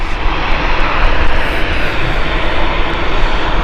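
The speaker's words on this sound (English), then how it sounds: "Got a Ryanair heading off next. This is the Dublin flight from Ryanair." A Ryanair jet airliner departs Gatwick Airport for Dublin, its engines producing a loud, continuous roar that stays steady and dense throughout.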